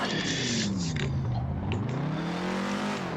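A Ford Mustang race car drives hard on a track, the engine close and loud, dropping in pitch under deceleration, then rising again as it accelerates, with a brief squeal of tyres.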